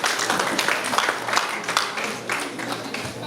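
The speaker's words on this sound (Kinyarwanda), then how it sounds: "mwumvire amashyi y'umugabo" Applause and clapping from a gathered crowd at a Rwandan traditional engagement and dowry ceremony, a dense steady patter of many hands lasting a few seconds with slight swells, fairly close and unaccompanied by clear speech.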